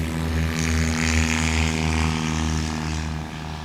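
A light aircraft engine drones loud and close with a steady propeller hum during a takeoff roll at a Swamp STOL short takeoff and landing practice in Jennings, Louisiana, easing slightly near the end.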